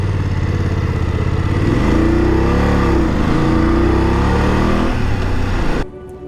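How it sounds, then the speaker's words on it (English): Motorcycles ride past with a loud, continuous engine drone that rises in pitch and pulses as they rev, filling the clip before dropping away abruptly near the end. "Motorcycle riders behind me."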